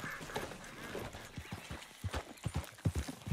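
Horse hooves clip-clop in Red Dead Redemption 2, a steady near trotting rhythm of distinct hoof strikes growing heavier toward the end, with soft ambient background.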